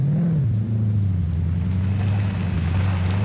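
A car engine in Forza Horizon 5 drones steadily at low pitch while driving toward the highway, a continuous loud rumble with a slight dip in revs near the start.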